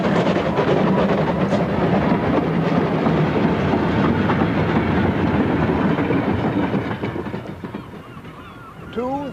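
A train on the East Coast main line at Berwick-upon-Tweed rumbles steadily along the tracks, loud and close, fading somewhat near the end as a brief horn-like honk sounds.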